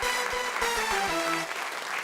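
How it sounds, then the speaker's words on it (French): Applause from a crowd fills the clip, a steady wash of clapping with some musical tones ringing underneath. "Applaudissements déjà."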